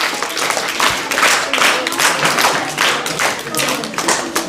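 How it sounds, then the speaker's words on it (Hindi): A school audience at a student election claps loudly and continuously for a candidate, a dense, close burst of applause. "खड़े हो जाए वो, जोरदार ताली कीजिए, जोरदार के लिए"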